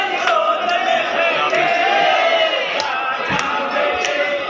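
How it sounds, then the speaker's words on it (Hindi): A dense crowd of worshippers at the Khatu Shyam temple fills the air with a continuous, loud murmur of voices, punctuated by occasional sharp shouts and knocks close by. "तो काफी भीड़ है।"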